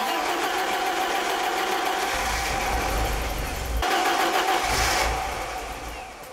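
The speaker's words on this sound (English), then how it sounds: "Bloody starter motor." A BMW E30 barn-find car whose starter motor cranks the engine, giving a steady mechanical whirring with two rougher surges as it tries to catch, close and loud.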